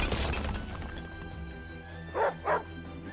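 A cartoonish dog in the strategy video game Wargroove gives two quick, clear barks in a row over a steady game music background.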